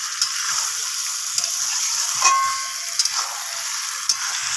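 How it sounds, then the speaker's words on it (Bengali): Chicken and fried potatoes sizzle in a pan while being stirred, a steady close hiss broken by several sharp scraping clicks from the spoon, with no talking. "তো আলুগুলোকে দিয়ে আমি চিকেনের সাথে খুব ভালোভাবে নাড়াচাড়া করে"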